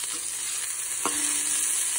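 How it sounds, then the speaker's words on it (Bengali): A curry of drumsticks and bitter gourd cooks in a pan, giving a steady bright sizzle with a spoon stirring and a brief scrape, no voices. "আর এখানে হচ্ছে সজনের ডাঁটা আর উচ্ছে দিয়ে তরকারি রান্না করছি।"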